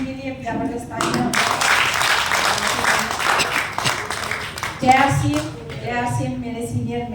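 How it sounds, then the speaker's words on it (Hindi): Crowd applause at a business speech event in Guwahati, a steady dense wash of clapping lasting several seconds, with a voice speaking over the start and again near the end. "सभी साथियों को एक बार मोहम्मद समीम के लिए जबरदस्त तालियां।"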